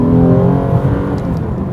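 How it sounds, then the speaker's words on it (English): A 2012 Hyundai Genesis Coupe engine hums and pulls under load from inside the cabin, a loud, steady droning tone that rises slightly as the car accelerates. "The engine sounds great"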